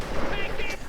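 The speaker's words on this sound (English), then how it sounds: "Mortar fire now being directed from a medium mortar." Medium mortar and artillery fire in a Company of Heroes mod battle, a burst of distant booming impacts layered under a voice.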